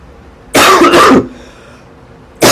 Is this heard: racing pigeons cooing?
no